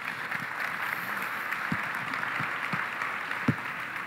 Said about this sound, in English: So another round of applause for the panel